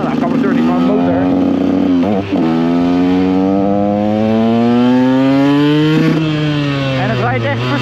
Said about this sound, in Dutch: je hoort nu ook, mijn carburateur die wagen gewoon van uitvallen